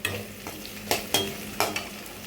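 Small shallots sauté in a pan for a Chinese potato kootu, with a soft sizzle broken by several sharp spoon-against-pan scrapes and knocks, close and clear, no talking.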